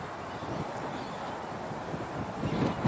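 Strong wind gusts across an open golf course, a steady broadband rush that swells slightly toward the end, with no voices.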